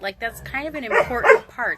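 Dogs bark and yip in the background, several short overlapping yaps mixed under someone talking close up throughout.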